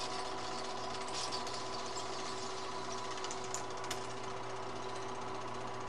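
Bell & Howell 456A Dual 8 film projector running, a steady mechanical whir with a rapid fine clatter and constant low hum, even and moderately faint, no voices.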